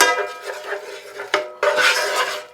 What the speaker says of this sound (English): now when you do this, you got to make sure that you constantly stir this